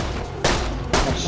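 Two loud shotgun blasts in the game Borderlands 2, about half a second apart, each a sharp broadband bang over steady game noise.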